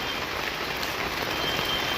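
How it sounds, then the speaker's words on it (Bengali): Heavy rain falls steadily as a dense, even hiss of drops on surfaces, with no breaks and no voices, at a market in the days just before Lakshmi Puja. "সকাল থেকে প্রচন্ড বৃষ্টি"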